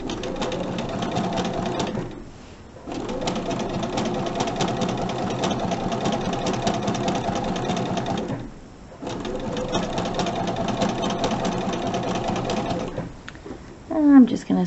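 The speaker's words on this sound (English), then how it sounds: "I'm just going to sew off onto a scrap piece of fabric here." A sewing machine runs steadily off the edge of a quilt block onto a scrap of fabric, a close, loud, even whir broken by two brief pauses before a final stop.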